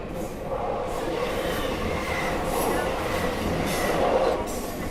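A train rolls over a railway junction near Rhyl, a steady loud rumble of wheels on track with faint rhythmic clatter and a soft squeal rising near the end, heard from on board.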